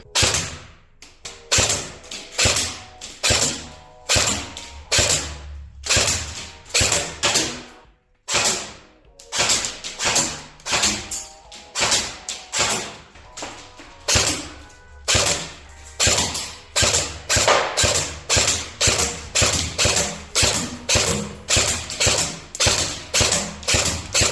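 Double Bell M16A4 airsoft electric rifle firing semi-automatic, a long run of sharp, loud single shots, each with a brief mechanical whir, following one another at a quick, fairly steady pace with barely any pause.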